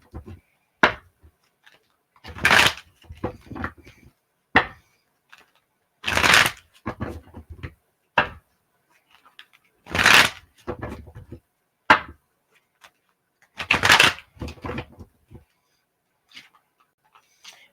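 Tarot cards are shuffled in short, sharp riffling bursts, close and loud, with quiet gaps between each round.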